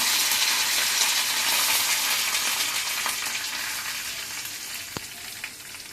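Mustard seeds, broken urad dal and curry leaves sizzle and crackle steadily in hot oil while tempering for red chana sundal, a dense continuous frying hiss that slowly eases, with one sharp metallic clink near the end.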